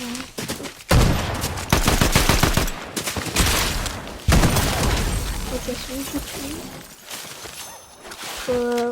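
Video game gunfire erupts in loud, dense bursts of rapid shots and crackling volleys, with brief pauses between and a faint chime near the end.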